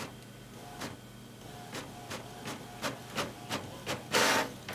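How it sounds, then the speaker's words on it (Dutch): A Canon PIXMA MG6350 printer prints a QR code, giving a faint series of evenly spaced mechanical whirs and clicks roughly every half second, ending in a brief louder rush. "Je ziet meteen de printer aan het werk."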